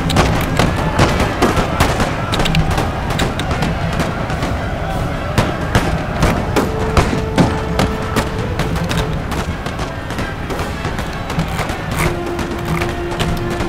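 Cannon fire and musket volleys from a Total War: Empire battle form a dense, continuous barrage of booms and crackling shots, with a voice talking faintly underneath.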